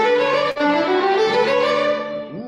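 Celtic fiddle orchestra at a rehearsal bowing an upward rhythm exercise together, a dense sustained ensemble of strings with rising pitch steps, loud and steady with a brief accent near the start.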